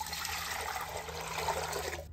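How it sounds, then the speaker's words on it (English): Eight cups of water poured into a stock pot in a home kitchen, a steady splashing and rushing stream of moderate loudness that runs without pause for about two seconds, with no speech. "We have 8 cups of water to a pot it goes."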